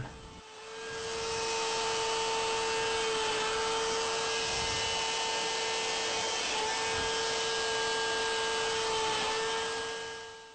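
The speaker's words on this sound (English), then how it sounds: "Now here's a row of holes drilled in real time." Power drill boring a row of holes through wood, a steady loud whine with a constant motor tone that runs without a break for about ten seconds, no voices.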